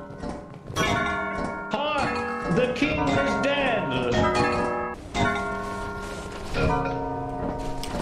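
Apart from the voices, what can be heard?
bells being rung in a video game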